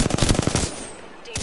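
Rapid automatic gunfire in a PS4 shooter game, a fast burst of loud close shots that stops abruptly, then a single shot resumes at the end.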